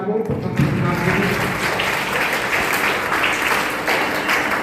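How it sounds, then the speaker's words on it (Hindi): Loud, steady audience applause greets a first prize winner at a traditional cultural competition, continuous clapping throughout the short stretch. "जोरदार तालियां आपको प्रथम पुरस्कार के लिए।"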